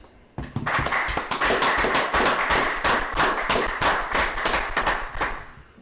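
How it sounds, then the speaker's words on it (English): A group claps in unison at a brotherhood class, loud, rapid, evenly spaced claps close by, continuing steadily for several seconds without talk. "All right, let's clap it up."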